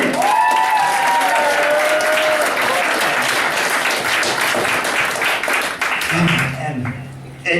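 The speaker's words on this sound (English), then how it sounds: "give him a round of applause like you have" A comedy club audience applauds a comedian as he is introduced, with loud steady clapping and a few cheers, a host's voice over it at first, fading as the comedian starts talking at the end.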